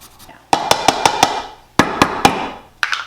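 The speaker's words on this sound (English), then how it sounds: "I'm just going to grate my ginger using my zester" Fresh ginger is grated on a handheld zester with quick, sharp, rhythmic scraping strokes, close and fairly loud, in two bursts separated by a brief pause.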